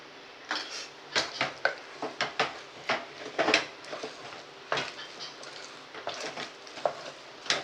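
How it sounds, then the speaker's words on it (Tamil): Utensil scraping and clinking against a pot while sweet pongal is stirred with ghee, a temple-style Sattur pongal; irregular close knocks and scrapes repeat every half second or so, with no voices. "நெய் விட்டு நல்லா கிண்டிக்கோங்க"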